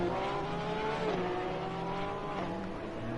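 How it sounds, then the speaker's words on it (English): A Ferrari GT race car spins through a chicane in the racing game Assetto Corsa Competizione at Barcelona, its engine note wavering and rising amid faint tire squeal, steady and moderately loud. "He is a spinner in the chicane"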